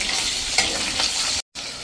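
Spice masala with green chillies sizzling and being stirred in hot oil for a sattvic undhiyu, a steady loud crackling frying hiss with a brief gap of silence near the end.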